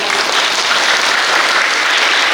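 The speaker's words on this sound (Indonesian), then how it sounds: "Tepuk tangan semuanya." Crowd at a workers' union Ramadan charity gathering claps loudly and continuously, a thick wash of applause at constant intensity throughout with no voices.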